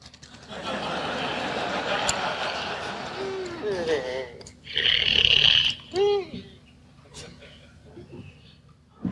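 A Furby Connect toy booting up gives out a string of warbling electronic chirps, buzzing tones and rising whistles, close and loud, with brief pauses between bursts.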